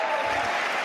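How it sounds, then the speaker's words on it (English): Applause sound effect played during a sports talk show about the Carolina Panthers, a short steady wash of clapping from a crowd, continuous and moderately loud for under a second. "Where's the applause?"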